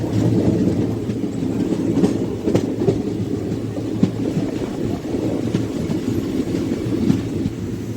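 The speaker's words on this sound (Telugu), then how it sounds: "సో ఎలక్ట్రిక్ లోకోమోటివ్తోనే రన్ అవుతుంది ట్రైన్" Passenger train rolling steadily on an electrified line behind an electric locomotive, with a continuous low rumble and faint clickety-clack of wheels over rail joints, carrying on evenly throughout.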